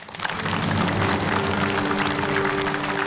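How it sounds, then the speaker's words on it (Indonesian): Studio audience applause on an Indonesian television talk show, a loud, full and steady burst of many hands clapping throughout, with no talk. "boleh tepuk tangan untuk Ustadz Danu."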